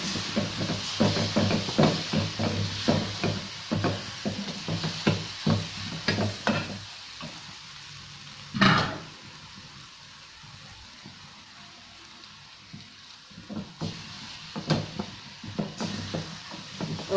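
Chilli powder and spices for sambar sizzle and get stirred in a pan. Sharp scraping strokes come in quick bursts, then fade to a quieter simmering hiss before the stirring picks up again.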